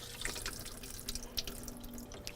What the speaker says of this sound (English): empty the water pan by taking the water valve, the water cap off, allowing it to completely drain